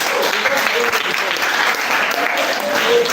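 An audience at a student pitching session claps loudly and steadily for about three seconds, a dense wash of hand claps close by with voices faintly mixed in.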